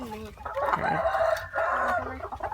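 Laying hens in a coop cluck and call close by, a loose, overlapping string of squawks and drawn-out clucks with low farmyard background underneath.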